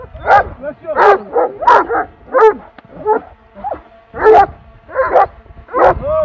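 Several herd dogs bark repeatedly while chasing a drone in the mountains near wild goats, sharp barks and yips arriving in irregular bursts at moderate distance, with a low buzz beneath.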